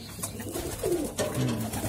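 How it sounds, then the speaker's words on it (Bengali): Soft, low pigeon cooing repeats in short throaty phrases, fairly close, over a light background hiss. "আলামিন ভাইয়ের প্রচুর কবুতর বাসায়"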